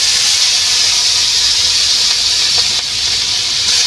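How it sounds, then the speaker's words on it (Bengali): Pieces of fish frying in hot oil in a home kitchen give a loud, steady, continuous sizzle and hiss, close by and unbroken, with no voices over it. "মাছ ভাজা বাবা"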